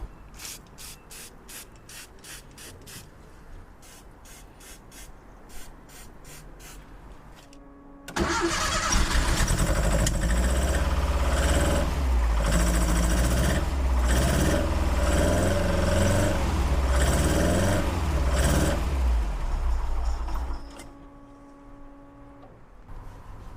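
A Porsche 914 engine fed by dual Weber carburetors cranks with rapid rhythmic clicks, catches, and settles into a loud, steady, close idle for about twelve seconds before cutting back to a quieter background.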